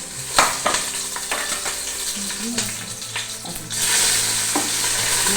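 Cinnamon, clove, garlic, ginger and green chili frying in hot oil in a pan, a close crackling sizzle with sharp stirring scrapes, swelling to a louder, denser fry toward the end.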